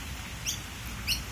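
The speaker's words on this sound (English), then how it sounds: "This is a noisy miner." Noisy miner bird in Australia giving two short, sharp chirps about half a second apart, faint over a low background rumble.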